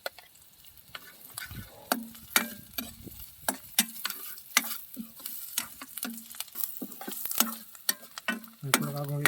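Carrots stir-fried in a pan at a jungle campsite cooking in a camper van, with a steady sizzle under repeated sharp scrapes and clacks of a utensil against the pan, close and rhythmic throughout.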